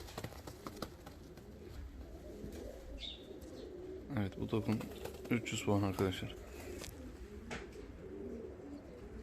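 Costume pigeons coo in a series of throaty, rolling bursts close by, mixed with fluttering and shuffling while someone talks over them.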